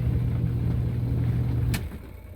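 A Giantex EP21684 portable mini washing machine, set on a tub edge, runs a 15-minute cycle with a steady low motor hum. A sharp click follows, and the hum then drops to a quieter level.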